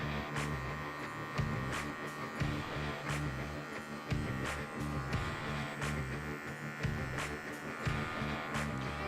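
An electric hair clipper with its guard removed and the lever raised trims hair during a French crop haircut, giving a steady close buzz with brief louder surges as the blades pass through the hair.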